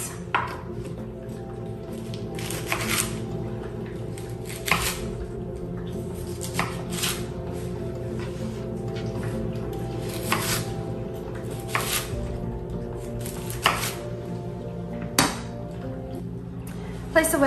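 A chef's knife cuts fennel into wedges on a board, giving a series of sharp, close chopping knocks spaced every second or two over a low background murmur.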